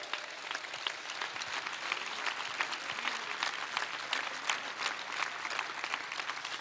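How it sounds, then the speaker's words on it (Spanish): A crowd at a political speech in Argentina breaks into sustained applause, dense, steady clapping that fills the space with no voices over it. "yo quiero públicamente pedir un aplauso para los que hicieron ese aporte voluntario"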